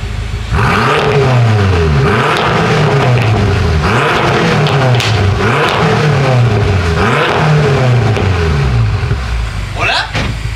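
BMW M6 with a V8 engine revs repeatedly in a loud, close series of rising and falling sweeps, about five throttle blips in a row, with people talking over it.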